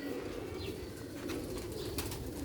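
Pigeons kept as pet birds softly cooing, a steady low murmur with faint chirps and a hint of wing flutter in the background, with no talking.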